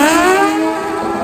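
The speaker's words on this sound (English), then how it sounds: "shifts that Suzuki into high gear" Suzuki pro stock drag motorcycle screaming down the strip at a Brisbane drag race, a loud high-revving engine whose pitch climbs steadily, dips briefly at the shift into high gear, then rises again.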